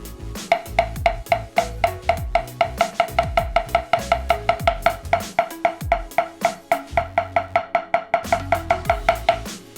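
Marching snare drum struck in a steady stream of even eighth notes, then eighth-note triplets, alternating right and left hands; crisp, loud, close strokes with no talk.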